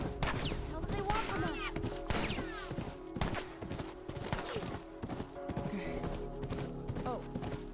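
Horse hooves clop in a quick, uneven rhythm amid a tense fight in The Last of Us, with scattered thuds and crashes mixed in and a voice shouting intermittently.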